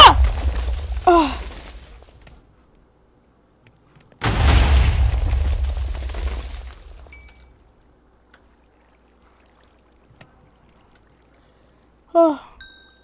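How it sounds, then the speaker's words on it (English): Mobs blowing up in Minecraft: two sharp booming explosions, the second with a longer rumbling tail fading over a couple of seconds, separated by quiet stretches, with a short vocal gasp between and a brief yelp near the end. "All mobs explode."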